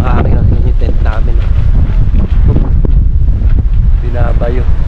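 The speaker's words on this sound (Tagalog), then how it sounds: "Grabe, ang lakas ng hangin ng tent namin." Strong wind roars and buffets against a tent at a campsite, a loud continuous rumble with gusting surges, with people talking over it.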